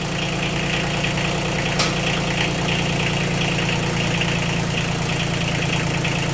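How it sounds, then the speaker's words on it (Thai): Kubota L2002 tractor with a three-cylinder 20 hp diesel engine idling steadily nearby, a loud even low rumble with a constant rattle and one brief click, no talk. "ตัวนี้จะเป็นเครื่องยนต์สามศูกนะพี่นะ"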